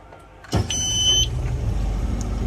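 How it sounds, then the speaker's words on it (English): A small sailboat engine cranks and catches with a sudden burst, then settles into a low steady idle, close to the microphone. "So I'll hold it like this and you try to start the engine."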